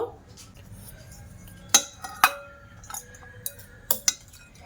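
Green chillies being lifted out of vinegar in a bowl, with a few sharp metallic clinks of a utensil against the dish and soft wet handling between them, close by.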